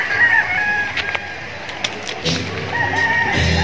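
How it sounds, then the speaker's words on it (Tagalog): Chickens and a rooster at a hillside campsite, with loud repeated crowing and clucking from nearby birds and several overlapping calls against quiet outdoor background. "maraming manok dyan sa baba"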